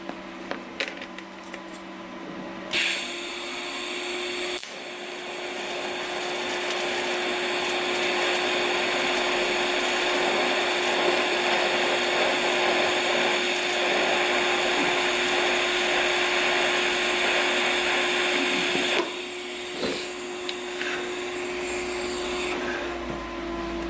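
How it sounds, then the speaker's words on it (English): Steady, loud electrical hiss and crackle of metal welding runs for about fifteen seconds with no talk, stopping and starting again briefly at both ends. "Getting a little better with this welder."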